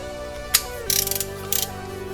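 A ratchet wrench tightening the mechatronics unit screw on an Audi RS3 DSG7 DQ500 gearbox during a fluid change: a single click followed by two quick bursts of rapid ratcheting, close and fairly clear over a faint background hum.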